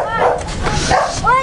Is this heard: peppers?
no